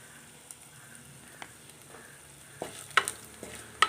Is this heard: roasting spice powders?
yes